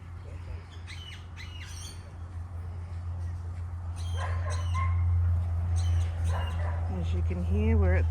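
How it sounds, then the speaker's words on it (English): Dogs bark, yip and whimper at an animal refuge, clustered in several bursts at a moderate distance over a constant low hum and background chatter, with squawky bird-like calls mixed in near the end. "we're at the animal refuge. The dogs in the background."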